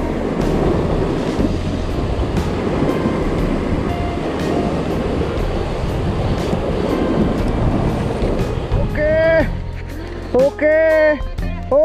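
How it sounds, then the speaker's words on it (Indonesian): Wind buffeting a microphone at sea during a fishing trip, a loud continuous rumbling roar, with voices speaking near the end. "Sayangnya angin nih bro yang kurang sip."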